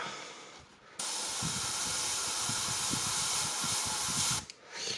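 A spray can of chameleon-colour paint sprays onto a piece of paper towel, a steady close hiss that starts abruptly and runs about three and a half seconds before cutting off.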